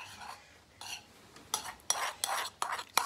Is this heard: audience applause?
no